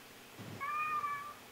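A house cat gives one short, rising meow, close and fairly quiet against a faint room background.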